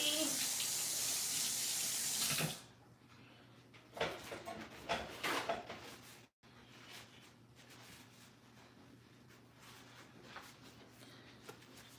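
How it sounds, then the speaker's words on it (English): Tap water runs over hands being rinsed at a sink, a strong splashing rush for about two seconds that then cuts off, leaving quiet with faint handling noises. "I'm going to rinse my hands off so I can use this gold flake."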